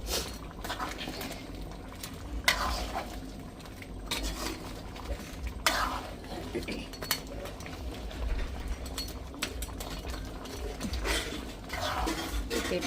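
A ground mixture of black pepper, cumin and fennel is stirred into a pan of cooking food, with intermittent spoon scrapes and clinks against the metal over a soft simmer.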